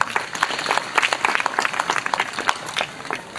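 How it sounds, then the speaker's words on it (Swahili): A crowd applauds Wallace Karia at a Tanzanian football event, a brief burst of dense clapping, moderately loud and fairly close, over a few seconds. "Makofi kwa Wallace Karia"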